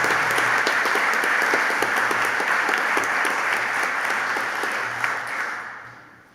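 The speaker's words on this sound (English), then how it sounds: "please can we give her a round of applause to celebrate her achievements" A large audience at an awards ceremony claps loudly and continuously in a dense, even wash that fades out toward the end.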